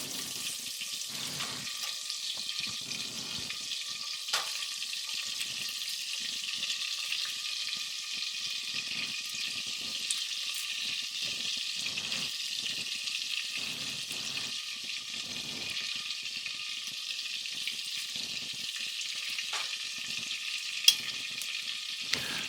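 Garlic sizzles steadily in a pan of olive oil and butter, a bright continuous frying hiss with small crackles and occasional stirring scrapes, close and alone without voices.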